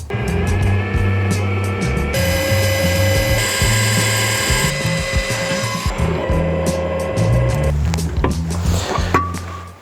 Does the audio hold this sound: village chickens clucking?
no